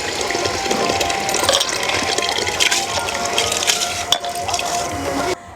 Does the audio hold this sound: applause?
no